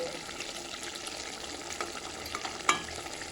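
Steady sizzling of fish frying in a pan for a spicy fish curry, a soft continuous hiss with one brief sharp clink near the end.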